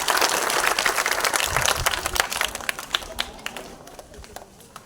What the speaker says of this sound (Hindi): तालियां बजाइए जोरदार।